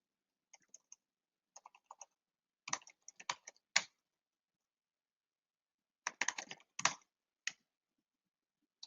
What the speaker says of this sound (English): But for us, we will type those in.